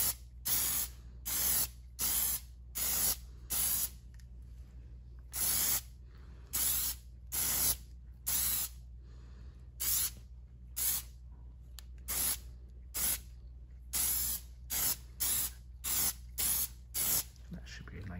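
An aerosol spray can lays a second coat of paint on car emblems in a string of short, sharp hissing bursts, with brief pauses between sweeping passes.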